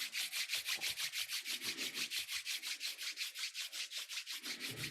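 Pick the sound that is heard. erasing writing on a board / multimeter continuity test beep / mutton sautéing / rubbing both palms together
rubbing both palms together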